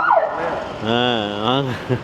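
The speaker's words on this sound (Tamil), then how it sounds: "போலீஸ் சைரன்லாம் வருது." A police siren wails in rising and falling tones in Kajang, Malaysia, fairly close, with a voice briefly heard at the start.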